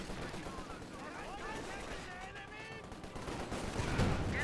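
Machine gun fire rattles through a Company of Heroes 2 battle, faint and steady in the background beneath a commentator's continuous talking.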